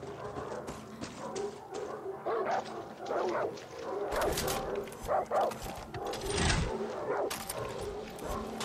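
Dogs in the Far Cry 6 video game bark and yip repeatedly amid game ambience and scattered thumps, fairly faint, with no talk over them.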